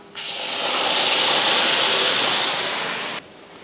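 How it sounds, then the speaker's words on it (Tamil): A steady, loud rushing hiss, like water boiling hard in a pot, holds for about three seconds and then cuts off. "இப்போ தண்ணி பார்த்திங்கன்னா ஒரு பக்கமாக நான் வந்து கொதிக்க வச்சுருக்கேன்"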